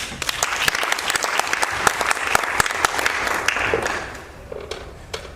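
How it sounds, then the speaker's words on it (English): A small theater audience applauds after a monologue performance, with close, distinct handclaps in a lively patter that gradually thins and fades toward the end. "And I please give a warm round of applause to the effervescent Eleanor Ramos."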